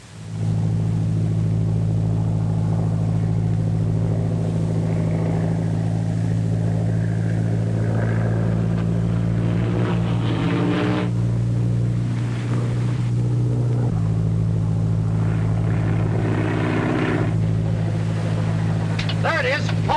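An airplane circling overhead gives a loud, unbroken engine drone that holds steady for the whole stretch, with faint voices underneath.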